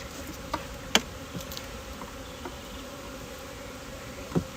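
Honey bees during a hive inspection, a soft, continuous buzzing hum with a few faint clicks and knocks scattered through it, no voices.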